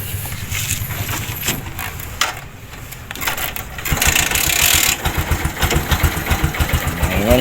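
A 2020 Bajaj CT125 motorcycle engine sputters and catches after stalling, then settles into a steady, close, rhythmic idle with a brief rev partway through.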